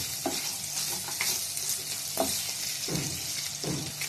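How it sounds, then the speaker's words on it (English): Mutton fries in ghee in an earthen pot, a constant close sizzle with occasional stirring scrapes and clinks of a spoon against the clay. "we have cooked the mutton in the ghee for almost 15 to 20 minutes"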